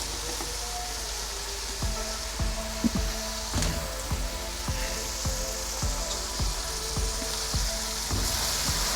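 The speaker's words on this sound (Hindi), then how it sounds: "अब मैं इसके अंदर आलू और गाजरें डालूँगी" Potato and carrot pieces dropped into hot sizzling masala in a pan, a continuous close fry hiss with a run of regular soft stirring knocks and one clattering splash as the vegetables go in.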